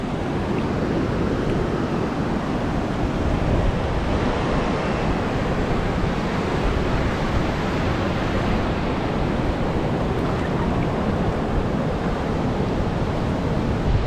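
High ocean waves at My Khe Beach in Da Nang just after a typhoon form a steady, loud, unbroken roar of surf mixed with wind rumble across the whole stretch, with no voices.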